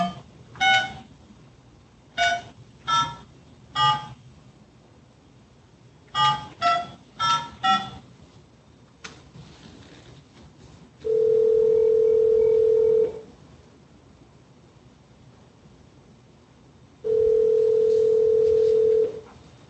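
Telephone keypad tones dialed on a call, a string of short beeps in quick clusters, followed by two long steady ringback tones with silence between.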